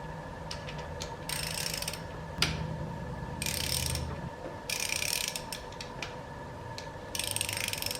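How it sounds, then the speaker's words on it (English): A hand ratchet clicks in repeated bursts while unbolting the cylinder head from a Honda Civic engine with a valve that will not seat, bursts separated by short pauses and a single sharp knock, close and fairly quiet. "So I'm gonna go ahead and remove that head."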